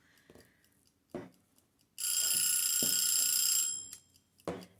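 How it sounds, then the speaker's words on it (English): A kitchen-style timer rings with a loud, shrill, continuous metallic alarm for about two seconds, close by, between quiet tabletop taps and rustles from junk journal crafting. "There's our lovely, horrible ringing timer, which means that we're kind of at the end."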